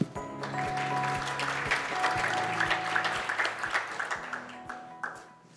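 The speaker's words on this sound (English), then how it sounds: "Would you please welcome our panel with a round of applause?" A conference audience applauds to welcome a cybersecurity panel at a government technology event, sustained clapping from a crowd that swells, then tapers off, with a low hum and a few clicks underneath.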